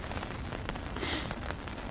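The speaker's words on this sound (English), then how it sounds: "The rain's picked up again, not massively, but enough." Steady rain pattering on a tarp and the surroundings at a cold winter hammock campsite, a dense close hiss with scattered drops, a little heavier for a moment midway.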